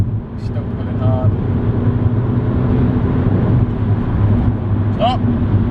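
An Audi S3 8L engine pulls hard under acceleration, a loud steady droning hum heard from inside the car, with brief voice sounds over it.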